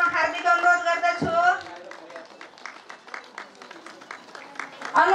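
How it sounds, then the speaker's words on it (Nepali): A community forest users' group annual general assembly in Nepal gives a round of applause to honor a student from a basic school; a voice speaks first, then a burst of steady clapping follows from the crowd, moderately close. "सबैले गडगडाट तालीले सम्मान गरिदिन हुनका लागि म हार्दिक अनुरोध गर्दछु"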